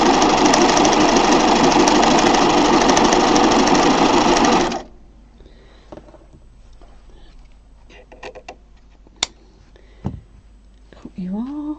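Close, loud, steady whir of a sewing machine stitching fabric bunting for several seconds, then it cuts out, leaving quiet room sounds with a few small clicks and handling noises.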